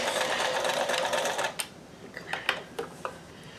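A sewing machine stitches in a fast, steady whirring run for about a second and a half, then stops, followed by a few scattered mechanical clicks and taps.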